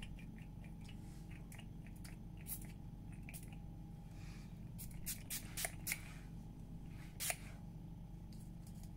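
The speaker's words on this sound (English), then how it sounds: "a friend of mine sent me the Urban Decay All-Nighter setting spray to try" Urban Decay All-Nighter makeup setting spray is misted in several short hissing bursts, close and quiet against a soft steady background hum, with a few louder sprays near the end.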